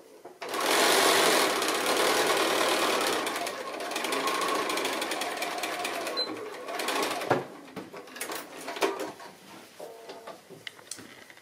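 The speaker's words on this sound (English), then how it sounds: "So I'll go ahead and I'll sew it" A sewing machine stitches the lining of a small square drawstring bag made from 2 1/2-inch fabric strips: a loud, steady close-up whir that later breaks into shorter, uneven bursts as the seam nears its end.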